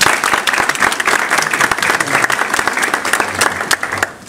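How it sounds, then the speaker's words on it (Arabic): Sustained applause from a seminar audience, a dense steady wash of clapping hands lasting about four seconds before tapering off at the end. "صفقوا لهم"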